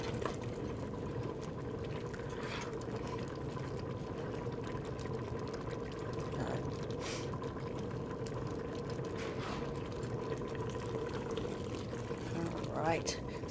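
Canned tomatoes poured from the can into a pot of mulligatawny soup, a steady, close liquid rush running throughout with voices talking at points.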